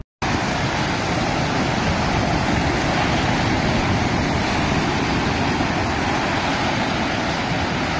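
A river breaking through into the sea, heard as a loud, steady roar of rushing water and surf that starts abruptly and continues unbroken for about eight seconds, with possible wind noise on the microphone and no talking.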